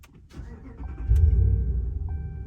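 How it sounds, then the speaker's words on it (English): A RAM 1500 petrol V8 cranks and fires up, heard from inside the cabin; a brief starter whir catches into a loud, deep idle rumble that settles and holds. "should we see what the V8 one sounds like inside when we fire it up?"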